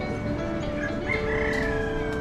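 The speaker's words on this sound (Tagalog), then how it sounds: "Mga tandang na manok o." A rooster crows nearby on a farm in the Tanay, Rizal highlands, a drawn-out rising and falling call over a low background murmur.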